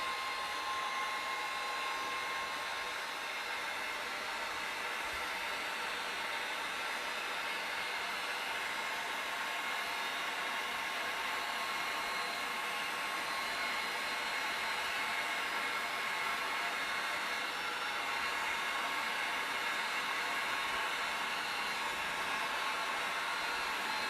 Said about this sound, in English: I'm going to throw a heat gun on this for just a second and dry this paint